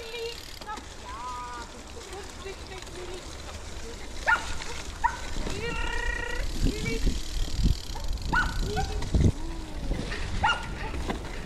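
A dog barks and yips in short bursts beside a mountain-bike trail ride, with bike and trail noise running underneath and people talking in between.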